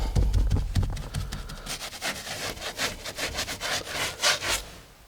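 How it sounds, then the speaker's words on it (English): Excess sealant filler is wiped off a patched crack in acrylic render, giving repeated scraping, rubbing strokes, heavier and lower at first, then quicker, brighter swipes in an irregular rhythm. "I'm just going to give this a bit of a wipe off to get rid of the excess"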